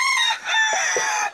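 Chickens at a poultry farm crow and cluck together in a loud, dense, continuous chorus heard close up, with no speech over it.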